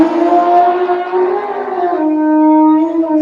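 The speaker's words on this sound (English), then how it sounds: "elephant" An elephant trumpets in one long, loud, sustained blare with a steady tonal pitch that slowly sags, heard alone without talk.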